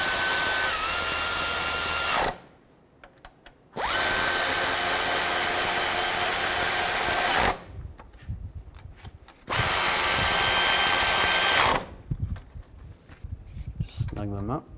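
A power tool tightens catalytic converter bolts on a 2008–2012 Ford Escape in three long, loud whirring runs. Quiet gaps separate the runs, with brief clatter and handling noise in between.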